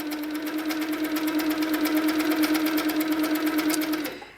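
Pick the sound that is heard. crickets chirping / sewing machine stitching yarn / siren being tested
sewing machine stitching yarn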